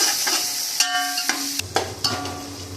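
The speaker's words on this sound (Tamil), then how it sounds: "அடுத்து இஞ்சி பூண்டு போடுறோம். அரைச்சி வச்ச இஞ்சி பூண்டு." Ginger garlic paste sizzling and frying in a pan for mutton biryani, a steady close hiss with clinks of a stirring utensil against the pan, no voices.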